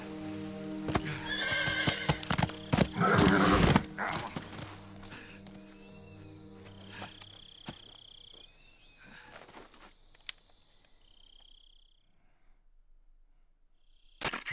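A horse in the Metal Gear Solid video game neighs loudly and gallops with clip-clopping hooves early on, then the sound fades into a quieter outdoor ambience with faint insect chirping.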